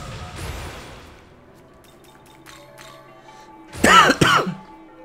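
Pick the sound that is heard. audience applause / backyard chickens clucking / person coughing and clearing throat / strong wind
person coughing and clearing throat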